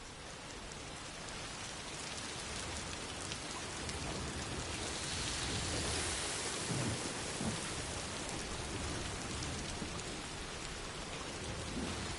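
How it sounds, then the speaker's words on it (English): Steady heavy rain pours down with low rolls of thunder in the video game Death Stranding 2, a constant dense hiss with a deeper rumble swelling near the middle. "All right, it's raining."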